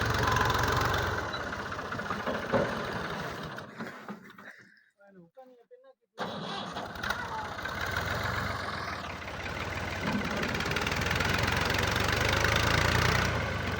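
A tractor's diesel engine idles and chugs steadily, briefly dropping away to near quiet before rumbling back at full strength.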